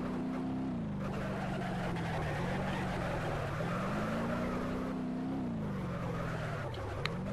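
A V8 car in the BeamNG driving game skids and slides with a continuous engine drone that rises and falls in pitch over several seconds, steady and moderately loud, with no speech.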